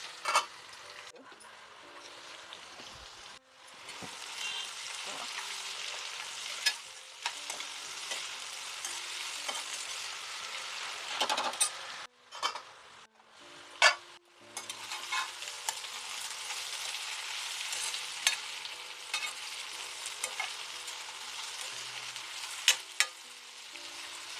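Ivy gourd (dondakaya) pieces fry in a pan with a steady broadband sizzle, broken by spatula stirring and scraping clinks, close and moderately loud, with no talking.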